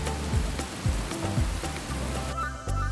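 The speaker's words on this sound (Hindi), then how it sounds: "खिड़की पर बारिश की बूंदें टपकने लगी।" Raindrops patter steadily against a window, a dense close-up tapping with a few louder drips standing out through the short stretch.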